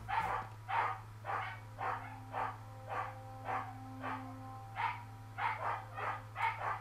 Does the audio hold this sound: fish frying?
no